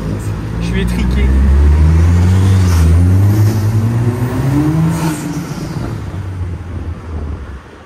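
A 200-horsepower three-wheeled car's engine pulls hard and rises in pitch as it accelerates, loud and close, with wind buffeting the microphone; a voice is faintly present.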